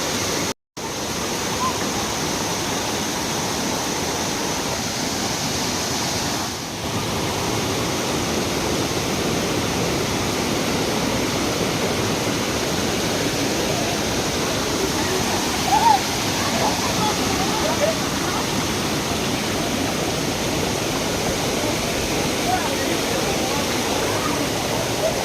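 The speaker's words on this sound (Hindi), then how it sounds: "ये हो गया वाटरफॉल।" A hidden waterfall in Karbi Anglong, Assam, roars in a loud, constant rush of falling water that fills the whole scene, with faint voices mixed in.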